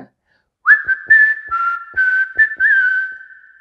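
Whistled rendition of a film whistle theme, a clear, close human whistle carrying a sliding melodic line in several phrases, with short breathy gaps between them.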